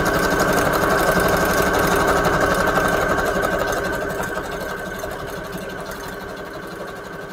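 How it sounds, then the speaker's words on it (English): A sewing machine runs in one continuous, fairly loud whir during a craft session, holding steady for several seconds before easing slightly quieter toward the end. "Daisy, does the eye of the needle go towards you or towards the machine?"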